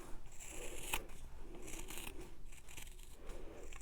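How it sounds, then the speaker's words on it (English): Sharp fabric scissors trimming around a machine-embroidered fabric piece, quiet repeated snipping and crisp blade cuts close up, with faint fabric rustle between cuts. "take your fabric scissors, good sharp scissors, and you're going to trim all the way around"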